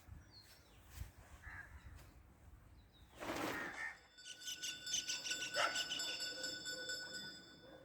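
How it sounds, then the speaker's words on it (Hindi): Bird calls at dawn ring out intermittently over a quiet outdoor background at a campsite, with a harsh crow-like caw and a rasping scrape breaking in partway through. "बीच बीच में कुछ बर्ड्स बोलते हैं।"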